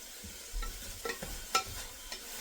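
Sausage cooking in a pan for a basil sausage marinara, with diced and crushed tomato to follow, gives a soft sizzle broken by a few stirring scrapes and clatters, fairly quiet and close.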